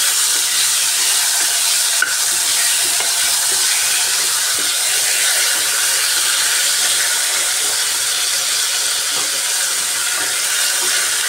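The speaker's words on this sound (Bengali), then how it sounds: "আলু আর লবণ দিয়ে আলুটাকে একটু ভাজা ভাজা করে নিতে হবে।" Potatoes frying with salt in a pan give a loud, continuous close-up sizzle and hiss, steady for the whole stretch with a single small click near the start and no talk.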